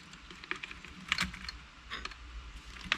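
Small clicks, snips and rustles as wiring is worked through while a steering wheel comes off a Honda S2000, light irregular taps close by and quiet, with no voices.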